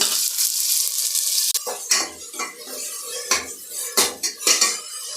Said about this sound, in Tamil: வெங்காயம் வதங்கினதும் தக்காளியும் ஆட் பண்ணி நல்லா வதக்கி விடுங்க.